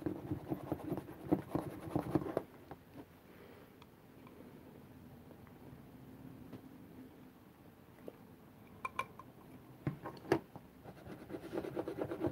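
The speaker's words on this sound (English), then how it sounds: "You just go over it with the bone folder, smoothing everything out." A bone folder rubbed over paper to smooth it while making a pencil sharpener case from a mint tin: quiet, close scraping and brushing strokes, with a few soft taps and light clicks scattered throughout.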